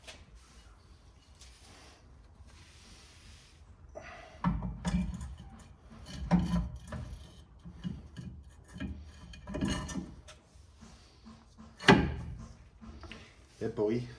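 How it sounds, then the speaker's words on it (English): A new floating rear brake disc goes onto a Mitsubishi Evo X hub with a series of metallic scrapes, knocks and rubbing clunks, irregular and close, separated by quiet pauses. "Let's put the new disc on."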